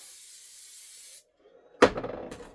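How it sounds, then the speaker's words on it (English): An aerosol can sprays adhesive onto a fabric piece for machine embroidery with a steady hiss that lasts about a second and then cuts off, followed after a short silence by a sharp clack and some light handling. "I'm going to spray the heck out of it so it doesn't budge at all."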